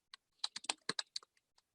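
Keyboard arrow keys are tapped about a dozen times in an uneven rhythm, crisp close clicks that get sparser and softer toward the end, with no talk.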